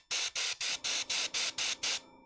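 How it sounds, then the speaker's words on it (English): Spray paint is sprayed onto a miniature model in eight short, evenly spaced hissing bursts, close and fairly loud, with no talking. "I'm just going to spray straight down on top of that candle"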